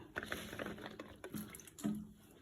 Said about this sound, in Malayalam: അരിഞ്ഞിട്ട് വെള്ളത്തിലേക്ക് ഇടുക, എന്നിട്ട് 2-3 പ്രാവശ്യം ഒന്ന് കഴുകിയെടുക്കുക നല്ല വെള്ളത്തിൽ.